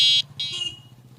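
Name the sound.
horn of a homemade free-running bike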